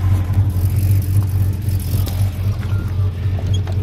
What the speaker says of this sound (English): I still feel like it sounds like an exhaust leak somewhere.